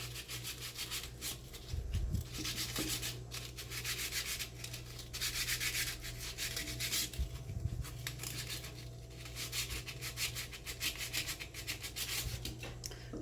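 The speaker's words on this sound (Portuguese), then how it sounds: "Lixando os coraçõezinhos." Sandpaper rubs over small cold porcelain hearts in steady back-and-forth strokes, a continuous close scratchy rasp that pulses with each pass, with no talk.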